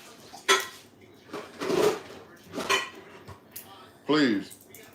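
Dishes, pots and pans clatter during dishwashing in a home kitchen, with several loud clanks and scrapes spaced apart and a brief voice near the end.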